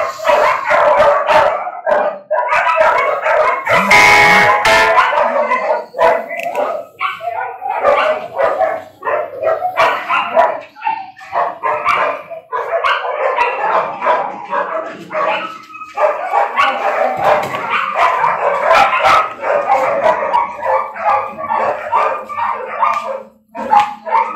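A dog barks loud and close in repeated bursts of barks and yips with an occasional howl, continuing almost without pause for over twenty seconds and carrying no talk.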